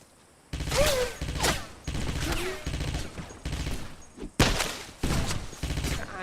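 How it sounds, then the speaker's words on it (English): Machine gun fire in the video game Wolfenstein crackles in several dense bursts, separated by short gaps and sharp onsets, and is loud and close. "Machine gun."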